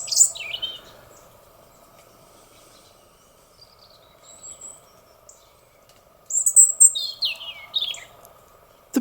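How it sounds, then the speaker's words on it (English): Small birds sing in the morning, with bright chirps and short trills near the start and a busier burst of song toward the end, over a steady insect-like drone in between. "The birds singing here in the morning."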